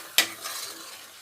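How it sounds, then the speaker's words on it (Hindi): Green chilies and spices frying in a pan, a single sharp clink of a spoon against the pan followed by a soft, faint sizzle. "अब इन सबको भूनना है अच्छी तरह।"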